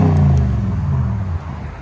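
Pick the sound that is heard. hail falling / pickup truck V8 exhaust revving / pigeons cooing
pickup truck V8 exhaust revving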